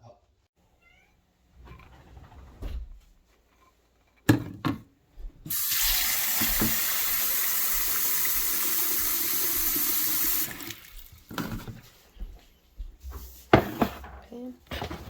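Water gushes steadily from a tap onto black beans for several seconds, loud and continuous, with clatter and brief sounds before and after.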